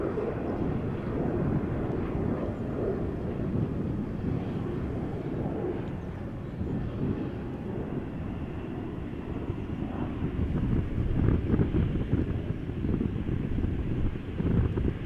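A distant aircraft taxis at Amsterdam Schiphol Airport, its broad low jet roar mixed with wind buffeting, holding steady and swelling slightly toward the end.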